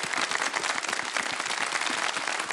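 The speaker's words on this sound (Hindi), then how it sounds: "वाह, ये तो बहुत अच्छी बात है भाई, तालियां बजा दो।" Audience applause from a crowd at a studio show, a dense, steady wash of many hands clapping together throughout, fairly loud and close, with no speech over it.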